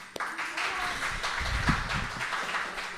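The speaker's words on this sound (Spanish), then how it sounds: "también un aplauso para ellos" A congregation at a Spanish church service gives a brief round of applause, soft clapping heard behind a speaking voice for a few seconds.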